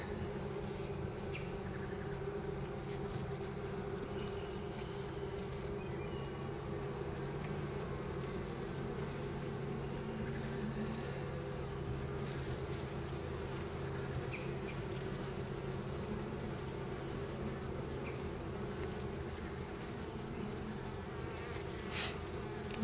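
Honeybees buzzing inside a horizontal hive, a dense, continuous drone that holds steady and fairly loud throughout, with no voices.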